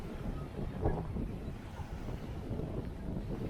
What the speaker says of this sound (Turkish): burası çok daha rüzgarlı bir yer